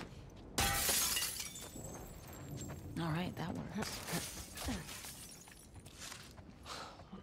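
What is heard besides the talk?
glass window shattering from gunfire, video game The Last of Us Part II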